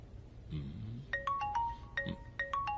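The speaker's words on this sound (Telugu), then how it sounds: "ఫోన్ వస్తుందేమో చూడండి." A mobile phone ringtone for an incoming call plays in a movie scene, a bright repeating electronic melody in short bursts after a brief low sound, fairly faint.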